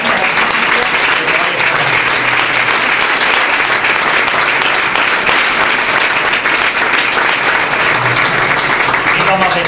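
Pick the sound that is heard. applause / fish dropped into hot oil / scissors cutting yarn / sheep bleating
applause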